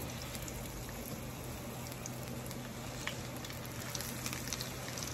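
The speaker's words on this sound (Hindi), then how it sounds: "अब मैं ये डालूंगी इस तरह करके। और ये बिल्कुल हल्की आंच में हमें फ्राई करना है।" Potato and onion pakoras sizzle gently in oil over low heat, a steady soft crackle and bubbling hiss that stays close and even throughout, with no talking.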